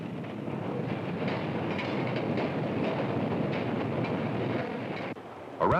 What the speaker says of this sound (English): This is a special kind of train for the people who live in the city. It's called a rapid transit train.